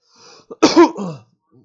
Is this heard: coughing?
yes